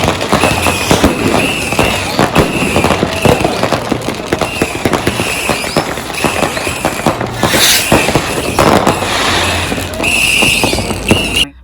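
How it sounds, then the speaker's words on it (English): New Year's Eve fireworks in Frankfurt, a dense barrage of bangs and crackling firecrackers going off continuously all around, loud and close, with whistling rockets and faint crowd noise beneath. "Then we went to see the fireworks, which was scary and amazing at the same time."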